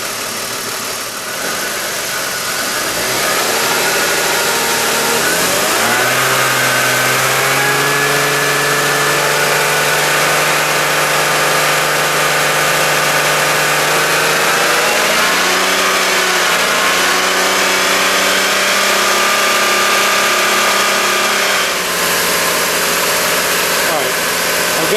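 A BMW X5 engine runs steadily at a little under 2,000 RPM, a loud, continuous hum with shifting tones and a mild rise midway, close to the microphone with no speech.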